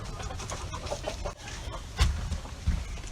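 Backyard chickens cluck and murmur nearby in a short, irregular series of soft calls over outdoor ambience, with a couple of louder bursts toward the end.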